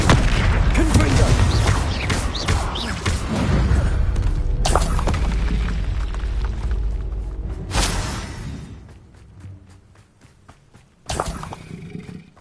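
Confringo fire-spell blasts in a Hogwarts video game: several booming, roaring bursts that hit hard and then trail off, with a final sharp blast after a quieter lull.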